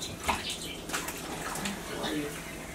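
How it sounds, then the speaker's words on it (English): Cold tap water runs into a pot in a home kitchen, a steady splashing rush with a few louder bursts, while people talk over it. "then add cold water on top"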